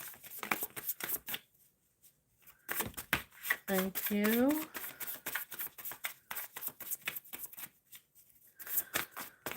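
Tarot cards shuffled in rapid riffling bursts across the clip, crisp and close, with a brief spoken phrase partway through.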